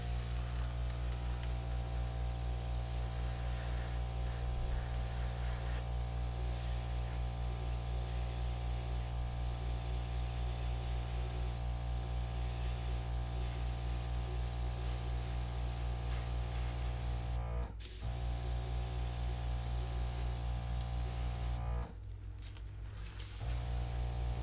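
An airbrush spraying acrylic paint gives a steady close hiss that runs nearly unbroken, pausing briefly twice near the end.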